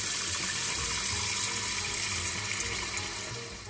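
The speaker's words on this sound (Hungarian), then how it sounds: "gyorsan teszek fel egy tésztavizet is" Tap water runs steadily into a pot being filled for pasta in a home kitchen, a continuous close splashing hiss that fades slightly toward the end.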